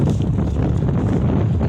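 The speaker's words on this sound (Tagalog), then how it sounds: "Lakas ng hangin mga ka-angels" Strong sea wind blasts straight into the microphone on open water during crab catching, a loud, continuous, rumbling buffet that never lets up.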